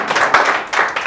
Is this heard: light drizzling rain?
no